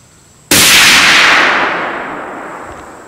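A single sharp, loud crack from a Christensen Arms .300 Win Mag rifle fired at a target, with a long rolling echo that decays slowly over a few seconds.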